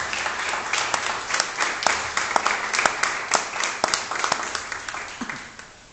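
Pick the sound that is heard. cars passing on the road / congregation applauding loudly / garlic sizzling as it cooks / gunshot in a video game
congregation applauding loudly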